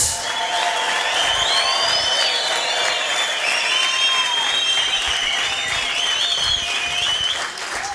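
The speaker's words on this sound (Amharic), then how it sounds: "ይደገም ጭብጨባው ለኢየሱስ።" Sustained applause from a large church congregation, dense and steady throughout, with scattered cheers rising above the clapping.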